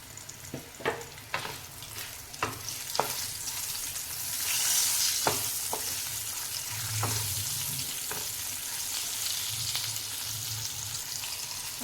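Bitter gourds sautéing in a pan for a rustic black-masala dish, a steady soft sizzle with occasional clinks and stirring scrapes, no talking.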